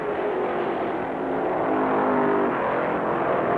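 Stock race cars roar around a track as Richard Petty's car, its fenders smashed, eases past Cale Yarborough's Junior Johnson–built car, a loud, sustained engine drone holding steady for several seconds.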